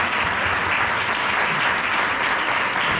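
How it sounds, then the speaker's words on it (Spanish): A book-talk audience applauds for writer and actor Pablo Rivero, a dense, steady wash of many hands clapping that stays loud and even from start to finish with no voices on top. "un fuerte aplauso"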